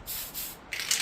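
A spray paint can gives quick test bursts before coating an RC car body shell, producing a few short, airy hisses close to the microphone, with the last burst the strongest.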